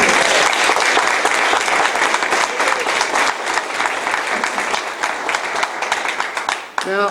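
Dense, loud applause from an audience at a get-out-the-vote rally fills the space continuously, swelling then tapering toward the end as a voice begins.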